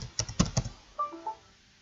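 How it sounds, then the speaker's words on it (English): Several quick keystrokes on a computer keyboard, a short burst of close clicks followed by a faint electronic tone. "if I type in greater than 10 characters"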